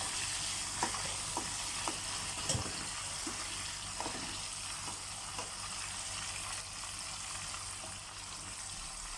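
Fresh-caught fish frying in oil, a steady loud sizzle and crackle with occasional pops and brief clicks over nine seconds, close by and without voices.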